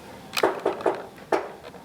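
Sharp knocks on a hard surface spell out the letter L in POW prisoner tap code: a single tap, a short pause, then three quick taps, and one more tap after a gap, close and fairly quiet.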